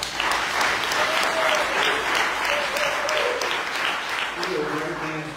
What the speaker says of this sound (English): So can we give Mayor Crabb a big round of applause?